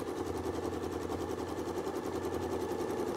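A domestic sewing machine quilting a curvy diamond pattern across a quilt sandwich, its needle pounding in a fast, steady mechanical rhythm with an even motor hum, close and constant.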